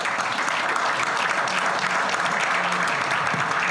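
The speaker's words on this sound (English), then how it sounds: "Let's give this panel a round of applause." An audience at a real estate tokenization summit applauds a panel, dense and sustained clapping that stays at a steady level throughout with no speech over it.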